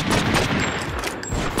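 Gunfire in the video game True Crime: New York City, a short dense flurry of overlapping shots and rumble, loud and continuous.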